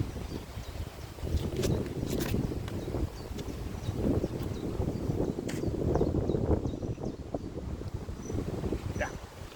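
Steady gusts of wind buffet the microphone on an open disc golf course, a loud continuous low rumble that swells and eases over several seconds with no voices.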